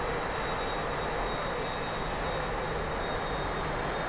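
A T-45 jet in the DCS flight game drones steadily and loudly on a landing approach as the engine power is nudged up and down, a continuous unbroken roar with no talking.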